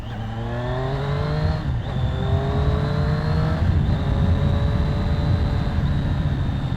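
A 2020 Triumph Street Triple RS motorcycle accelerating hard, its engine note rising steadily through the gears with brief dips at each shift, loud and close under steady wind rush.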